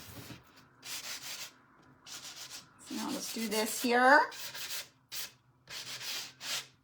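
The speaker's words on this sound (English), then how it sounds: "Just take a little sanding block to the edges and distress that up." Repeated short bursts of rough scraping as a sanding block rubs back and forth along corrugated cardboard edges, with a person speaking briefly in the middle.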